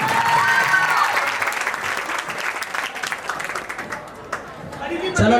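An audience claps at a school annual function and prize distribution, with steady, fairly loud applause that slowly fades, mixed with crowd chatter and voices.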